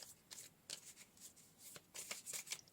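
Tarot cards are shuffled and drawn up close in a quiet room, making a series of quick, soft riffling and slapping bursts in an uneven rhythm with no talk over them.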